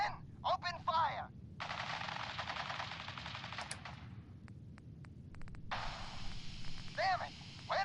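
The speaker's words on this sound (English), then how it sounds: "Stop or we'll shoot. Men, open fire." Rapid automatic gunfire in Fallout 4 rattles in long sustained bursts from about 1.5 to 3.8 seconds, followed by scattered single shots and another dense burst, with brief voiced shouts at the start and end.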